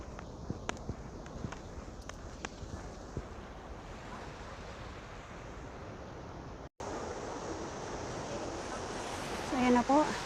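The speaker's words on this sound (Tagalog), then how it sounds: "Dito na po tayo sa Big Wave Beach." Ocean surf rolls in at Big Wave Beach, Hong Kong, a steady wash of waves with wind buffeting the microphone and a few footstep-like knocks, growing louder near the end.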